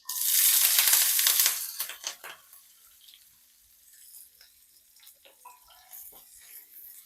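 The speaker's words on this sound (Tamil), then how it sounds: "சின்ன வெங்காயம் கருவேப்பிலை சேர்த்துடலாம்" Chopped shallots and curry leaves hit hot oil already holding mustard seeds, for a drumstick-flower kootu. A loud, hissing sizzle bursts out for about two seconds, then settles into a quieter, sputtering crackle with no one speaking.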